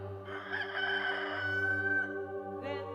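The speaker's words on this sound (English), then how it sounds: "And at that moment, the cock crowed for the second time." A rooster crows during a church Passion Play, a single drawn-out cock-a-doodle-doo held for about two seconds at moderate volume, with no talking over it.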